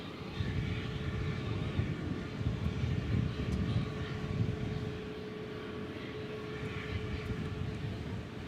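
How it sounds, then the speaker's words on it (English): A Boeing 787 Dreamliner airliner departs DFW International Airport for São Paulo, a steady, fairly distant jet engine rumble and whine that holds without a clear peak. "So we're going to São Paulo with this Dreamliner down in Brazil."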